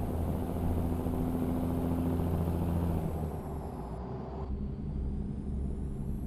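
A heavy truck engine in a trucking video game drones loudly and steadily throughout, a thick low rumble that eases slightly partway through.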